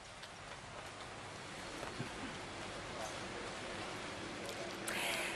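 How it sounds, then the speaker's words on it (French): Heavy monsoon rain pours down in Phnom Penh, Cambodia, a steady dense hiss of falling water that stays constant throughout and swells slightly near the end. "Alors il pleut à seau d'eau, comme on dit ici au Cambodge"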